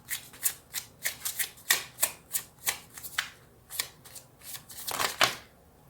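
Tarot cards being shuffled by hand in a rapid series of crisp riffling bursts, close and clear, with no talking.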